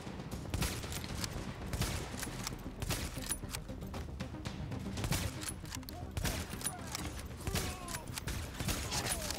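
Rapid video-game gunfire in a squad shooter on hard difficulty, dense bursts of shots and impacts scoring headshots, continuous and loud throughout, with players talking faintly underneath.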